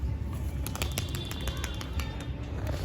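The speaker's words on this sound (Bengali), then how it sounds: "হালকা ওড়ে মা পায়রাটা মাঝে মধ্যে ওড়ে" Pigeons fly and land on a rooftop, with soft rapid wing flaps and bird sounds over a constant low background rumble, fairly close.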